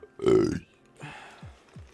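A loud, low burp from a participant on a podcast panel roast, lasting about half a second, then quieter voices and two short low thumps.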